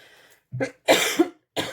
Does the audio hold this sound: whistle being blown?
no